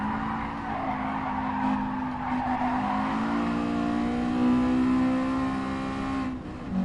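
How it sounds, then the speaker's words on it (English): Honda Integra in Gran Turismo Sport, a steady high-pitched engine drone with rising revs and a long tire squeal or skid throughout, loud and close with no voices. "Gran Turismo 3 and this have the better sounding for the Integra"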